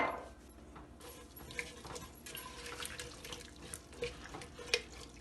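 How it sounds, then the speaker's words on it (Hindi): Water runs from a tap and splashes into a cooking pot while potato curry for aloo tarkari is being made, a steady close hissing flow with small splashes and drips, no talking. "दो कप जितना पानी डाला है इसमें"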